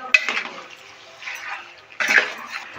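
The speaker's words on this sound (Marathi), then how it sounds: "पाणी टाकायचं वरनी. अर्धा तांब्या पाणी." Half a pot of water poured into a chicken masala curry in a metal pot, two short close splashing bursts with a clank at the start of each and a faint gurgle between them.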